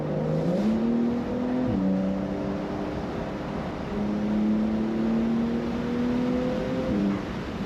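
Porsche 911 GTS Cabriolet engine pulling hard through the gears, heard from inside the open-top car: a droning rev that climbs, drops at each shift, and climbs again, under steady wind and road noise.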